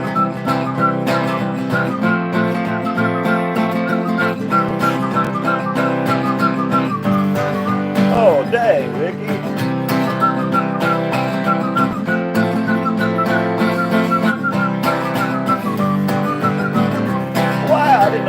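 A man whistles a steady, melodic tune that wavers and slides in pitch, holding sustained notes at a constant, moderately loud level with no talking over it.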